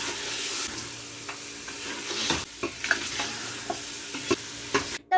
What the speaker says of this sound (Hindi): तब हम इन सब चीज़ों को मिक्स कर लेंगे अच्छे से।